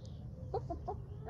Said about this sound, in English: Chickens are like, whoa.